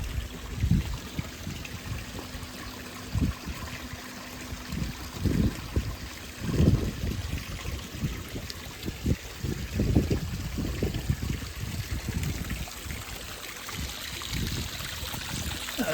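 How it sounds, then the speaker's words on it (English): Water pours from a hose pipe into a mini garden pond, a steady trickle and splash with occasional louder gurgles and bumps, heard close up with no talking. "Let's get this hose pipe out and get it down there into the mini pond."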